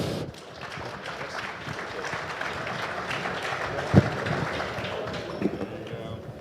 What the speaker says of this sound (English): If we can please give a round of applause for our last panel of the day